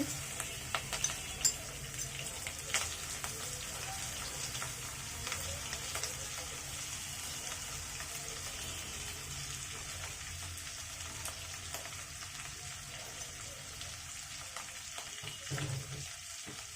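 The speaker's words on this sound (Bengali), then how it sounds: "মাছগুলোকে আমি লাল লাল করে একটু ফ্রাই করে দিব" Prawns frying in hot oil for a mustard prawn and taro stolon stir-fry, a steady broad sizzle running throughout with a few sharper crackles near the start and a brief louder burst near the end.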